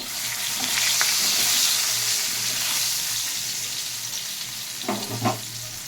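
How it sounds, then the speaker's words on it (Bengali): Potatoes with nigella seeds and salt fry in hot oil, giving a steady close sizzle throughout, with a few scraping stirs near the end. "একটু নুন দিয়ে আমি ভেজে নিচ্ছি"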